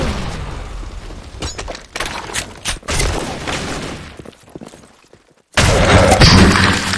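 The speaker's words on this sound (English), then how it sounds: "Fire in the hole! Grenade! Grenade!" Gunfire bursts and a heavy explosion crash from the Blackshot shooter game, loud and close, dropping out briefly before a dense roaring blast returns near the end.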